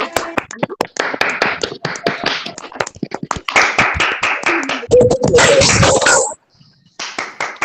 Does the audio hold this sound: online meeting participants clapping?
yes